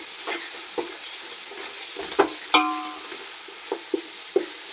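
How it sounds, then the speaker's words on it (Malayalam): Ginger garlic paste is stirred into onions frying in a pan for Palakkad Rawther beef biryani, giving a soft steady sizzle broken by several sharp scrapes and clinks of the spoon. "അതിലേക്ക് നമ്മൾ ചതച്ച് വെച്ച് ഇഞ്ചി വെളുത്തുള്ളി പേസ്റ്റ് ചേർത്ത് കൊടുക്കാം"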